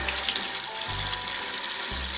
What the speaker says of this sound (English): So now you want to rinse your brushes.